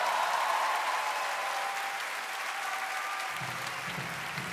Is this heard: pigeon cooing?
no